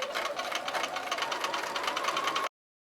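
A sewing machine stitching a 1/4 inch patchwork seam runs at a steady fast rattle, close and fairly loud for about two and a half seconds before cutting off to silence.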